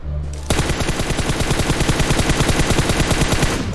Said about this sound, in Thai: โอ้ยิงไม่โดน คุมปืนไม่อยู่